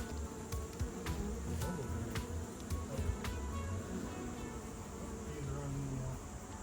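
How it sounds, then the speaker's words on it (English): Bees buzz around goldenrod outdoors, a steady droning hum close by, with a person speaking over it. "there's tons of bees in here."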